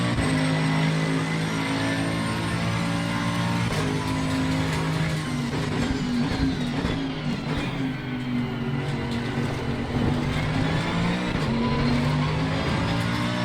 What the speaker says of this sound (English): Aston Martin comes off that last turn like a rocket.